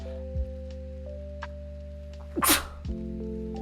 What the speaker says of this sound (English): Hold on. Sneeze.